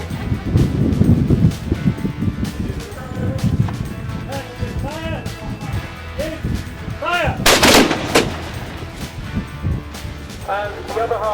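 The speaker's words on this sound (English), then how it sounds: "And now musketeers are up there, firing, lovely." Muskets firing at a Civil War reenactment in Wigan, outdoors with sharp loud reports around the middle and a crowd talking and calling over wind and rustle throughout.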